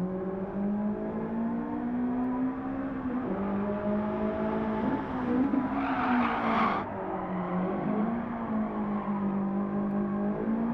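A Toyota AE86 tuned for touge runs in Gran Turismo Sport with a steady engine drone while the tires squeal loudly through a speed drift, the screech swelling briefly mid-run as the revs rise and fall.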